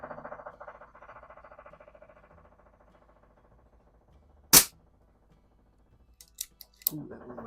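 A .177 Pinty Buster PCP air pistol fires one sharp, loud crack midway, followed near the end by a few quieter snapping impacts, with a low murmur of background sound early on.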